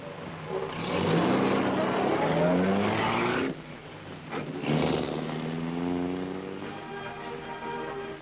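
A Triumph TR2 sports car engine revs hard and close in a 1955 REDEX Trial, climbing in pitch through a long pull, dropping briefly at a gear change, then surging again.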